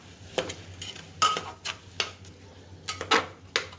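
Onion, potato, tomato and green chilli being sautéed together in a pan for masale bhat, heard as intermittent scraping and clinking stir strokes over a low background hum, fairly close and moderately quiet.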